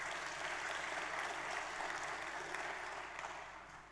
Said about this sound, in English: Don't be afraid to give another round of applause